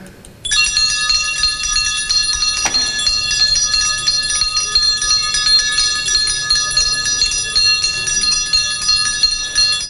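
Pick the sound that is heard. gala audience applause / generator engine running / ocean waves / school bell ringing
school bell ringing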